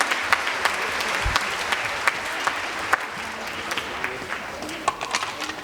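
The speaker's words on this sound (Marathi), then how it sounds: "5वीच्या विद्यार्थ्यांसाठी जोरदार टाळ्या होऊन जाऊ द्यात" Audience applause at a school annual social day for Std. 5 students: a steady wash of many hands clapping at moderate distance, with a few sharper claps standing out and no speech.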